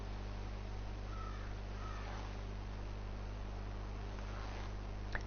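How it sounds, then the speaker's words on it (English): A crow caws a few times in the Game of Thrones video game, faint and somewhat distant over a steady low hum and hiss. "And that crow noise as well."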